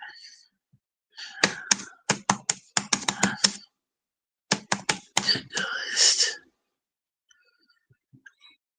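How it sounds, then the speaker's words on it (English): Computer keyboard typed on in two quick bursts of sharp clicking keystrokes, close up, with soft breathy vocal sounds between and a quiet stretch at the end. "I'm having to correct every word I'm typing."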